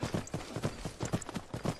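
Rhythmic clip-clop of horse hooves in the video game Skyrim Special Edition at a quick, even pace, close by and moderately loud, with no talking.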